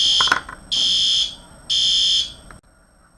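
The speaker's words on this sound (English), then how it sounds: "You heard the fire alarm, so we're back on target now." A fire alarm sounds in a classroom with two loud, sustained electronic blasts separated by a short gap, with some faint background noise and clatter in between.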